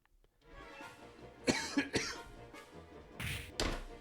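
A few sharp coughs close to the mic, spaced over a couple of seconds, with breathy rustling and a brief noisy burst between them.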